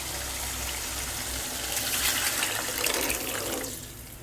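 Chickpea curry (kulambu) poured into a pan, a short splashing liquid rush that builds and then tails off, close and alone.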